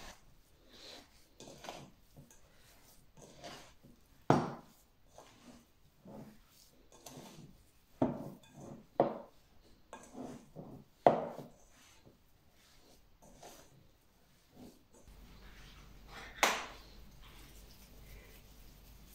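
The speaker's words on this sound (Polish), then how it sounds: "A teraz wystarczy tylko ciasto zagnieść." Dough for peach cookies is kneaded by hand with soft irregular slaps, presses and thumps on a work surface, quiet and close, spaced unevenly over a low room hum.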